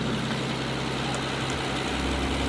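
An Aston Martin DB11 with a 5.2-litre twin-turbo V12 runs at a steady idle, giving a continuous low hum and mild vibration heard up close, with no one speaking.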